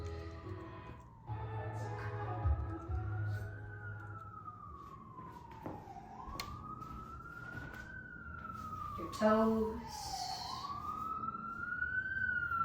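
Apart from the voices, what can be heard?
city siren in the background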